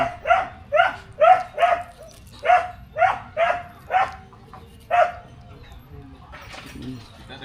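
A dog barks repeatedly in short, loud bursts, about eight barks in a loose rhythm, with faint background noise after the barking stops.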